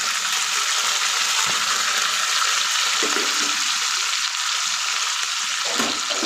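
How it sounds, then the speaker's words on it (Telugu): Vegetables hiss and sizzle in hot oil in a tempering for wheat rava upma with potato, a loud, dense, continuous frying crackle up close, with no talking. "ఇప్పుడు మనం తీసుకున్న కూరగాయలన్నీ ఒకసారి వేసేద్దాం."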